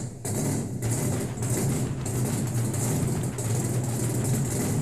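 A vintage car's engine rumbles at a steady idle at a hot rod show, close and loud, with a deep, uneven low throb and no talking over it.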